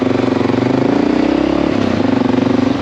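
A Honda XR650L motorcycle rides through city streets, its engine thrumming steadily and loud up close, with slight shifts in pitch as it moves along without pause.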